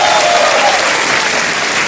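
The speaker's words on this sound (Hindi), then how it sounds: "जी तालियां बजती रहे देवी और सजनों।" The studio audience of the Kaun Banega Crorepati game show in 2011 breaks into loud, sustained applause, a thick, even wash of clapping with no break from start to end.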